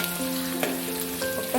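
Green chilies, curry leaves and coconut pieces fry in hot oil, giving a steady close sizzle with a few brief stirring scrapes and no voices.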